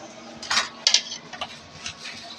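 Metal pots and utensils clatter in a home kitchen as rice is put on to cook, a few sharp clinks and taps spaced irregularly, close and fairly quiet with no talk.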